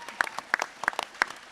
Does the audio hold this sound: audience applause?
yes